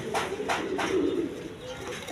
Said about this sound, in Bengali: এইখানে এক পেয়ার শার্টিং কবুতর আছে আপনারা দেখেন ব্ল্যাকলেস শার্টিং